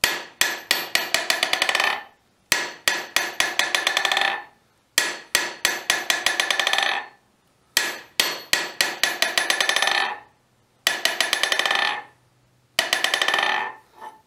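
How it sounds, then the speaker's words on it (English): A hammer dropped on a cavalry anvil rebounds in quick ringing bounces that speed up and fade. The sequence repeats six times, each bright metallic ring close and clear, with short silences between. "This is the rebound of the hammer on it."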